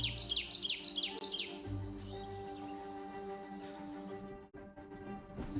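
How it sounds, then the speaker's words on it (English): Small birds give quick repeated high chirps in a burst at the start, then softer scattered calls over a quiet outdoor background, faint and somewhat distant, with no voices. "Birds. Their melodious calls often wake us."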